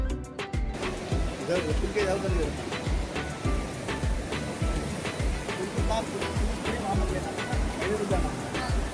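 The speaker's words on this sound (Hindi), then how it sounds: "आप देख सकते हैं नदी का विकराल रूप, लहरें इतनी तेज हैं और इनकी आवाज भी।" Rushing river below a suspension bridge linking India and Nepal near Dharchula, a steady loud roar of churning water with someone speaking over it.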